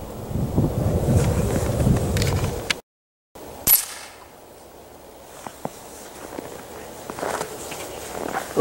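A .22 pellet air rifle fires once at an outdoor target on a cool day, a single sharp crack amid steady wind buffeting and scattered rustling footsteps.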